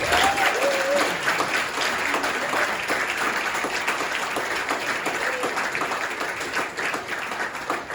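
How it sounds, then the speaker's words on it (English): A gala audience at a religious affairs specialist event applauds a guest speaker with dense, sustained clapping for the full stretch. A voice briefly sounds at the start, and the applause eases only slightly toward the end. "Please, a big round of applause."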